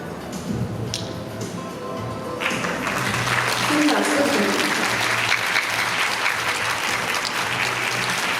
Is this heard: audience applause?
yes